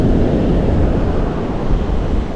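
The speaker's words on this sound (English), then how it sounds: "How about we watch the waves for a little bit, huh?" Ocean waves rushing onto the shore, a loud, continuous low roar of surf with some wind buffeting the microphone.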